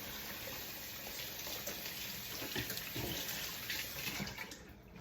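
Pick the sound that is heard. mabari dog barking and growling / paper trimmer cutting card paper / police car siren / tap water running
tap water running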